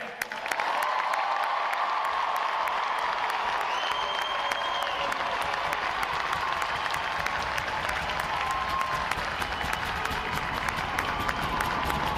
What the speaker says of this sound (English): put your hands together for your United States Navy sailors out here today